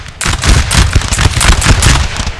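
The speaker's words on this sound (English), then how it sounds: "Here comes my full volley here." Musket volley fire from massed line infantry in the video game Napoleon: Total War, an Austerlitz multiplayer battle: a dense, continuous crackle of overlapping gunshots rolling on loud for over two seconds with no talk.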